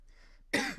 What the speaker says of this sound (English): sorry about the cough tonight